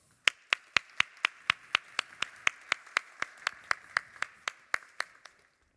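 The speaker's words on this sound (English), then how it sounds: "So give them a round of applause." A single pair of hands claps in an even rhythm, about twenty sharp close claps at a summit event, then stops, with no crowd applause around it.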